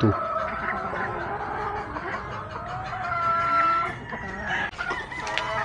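Gilliam Roundhead gamefowl in a breeding pen cluck continuously, with a rooster crowing partway through against a busy backdrop of other fowl calling nearby.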